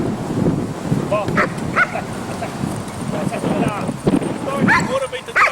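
Puppy barking and yipping in short bursts during French Ring training, with a trainer talking over and between the barks outdoors.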